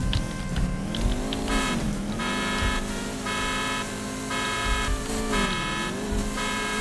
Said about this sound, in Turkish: arabanın alarmı çalıyor şu an